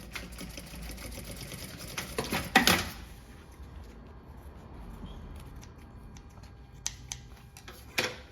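A sewing machine stitches a tote bag with a printed synthetic panel, running in a fast whirring burst for about three seconds, then falling quiet with scattered faint clicks and a final short rattle.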